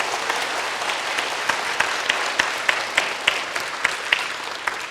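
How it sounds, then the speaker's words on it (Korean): A church congregation applauds together at an Easter Sunday worship service, a steady dense clapping throughout with a few sharper claps standing out, fairly close and with no talk over it. "우리 하나님께 영광의 박수 올려드리겠습니다."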